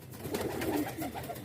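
A pigeon coos close by in a few soft, throaty, rolling phrases, low and rounded, with faint background hiss.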